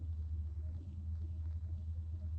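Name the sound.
car engine rumbling in radio drama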